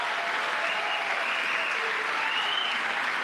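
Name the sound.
applause in Congress gallery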